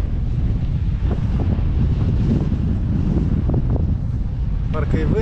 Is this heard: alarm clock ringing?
no